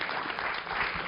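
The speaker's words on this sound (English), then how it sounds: "I think we need another round of applause for that one." A crowd claps steadily, a dense wash of applause holding at an even level for the whole moment without pause.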